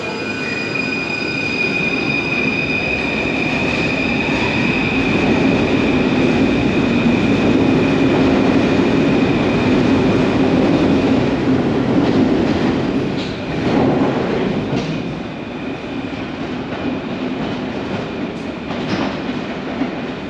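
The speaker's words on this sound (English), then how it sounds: "This train is now going to leave for Portofino." A Paris Metro train pulls out of Nation station with a loud, sustained rumble, steady wheel noise and high squealing tones. The sound shifts and thins slightly as it moves away, with no talk over it.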